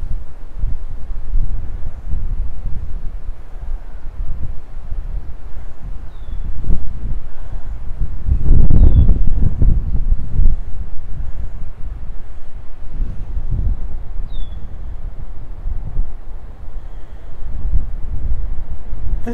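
Wind blows outdoors in a Minnesota winter, a steady low rumble of buffeting against the microphone that swells in gusts, with a few faint, distant chirps.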